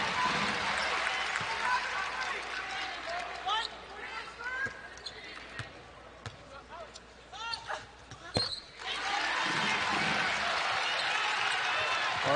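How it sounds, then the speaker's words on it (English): Arena crowd at a women's college basketball game in Iowa City, a broad steady roar of cheering and applause that swells and dips, with sneaker squeaks, ball bounces and a commentator talking over it. "The crowd getting into it now in Iowa City."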